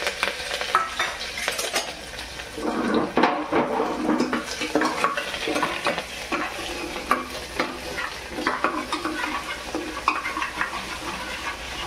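Garlic and ginger paste frying with curry leaves in a pan for a chana dal stir fry, a continuous sizzle under repeated scraping and clinking of a spoon against the pan, close and busy, no talking.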